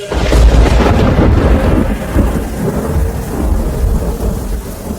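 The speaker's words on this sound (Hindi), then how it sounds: "यहाँ एल तेज बारिश में अकेले खड़ा है" Heavy rain pours steadily while deep thunder rumbles loudly, strongest at the start and then rolling on under the downpour.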